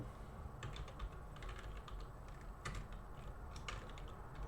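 Fingers type a prompt on a computer keyboard in quick irregular bursts of soft clicks, close and fairly quiet, with brief pauses between runs and no talk.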